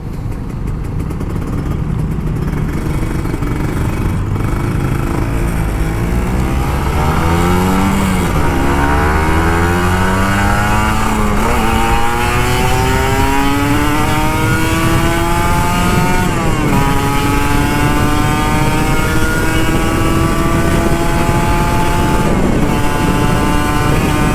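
An old Kawasaki Ninja RR 150 two-stroke motorcycle ridden on Jakarta streets, its engine loud and close, repeatedly revving up through the gears with rising pitch sweeps and gear changes, no talk.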